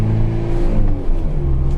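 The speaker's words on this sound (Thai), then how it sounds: "อัตราเร่งดีนะครับ ขับดีมากนะครับ" A 2004 Mazda Fighter open-cab pickup with a 2500 cc engine accelerates on the road, its steady mid-pitched engine drone rising and holding loud and close, with no talk over it.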